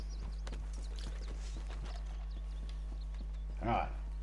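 A horse in the Red Dead Redemption 2 video game clip-clops with steady, evenly spaced hoof steps, fairly close, followed by a brief loud snort or whinny near the end, while someone talks over it.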